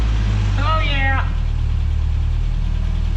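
A 1967 Toyota pickup engine with a freshly repaired exhaust leak idles steadily with a low, even rumble throughout. A voice speaks briefly over the running motor.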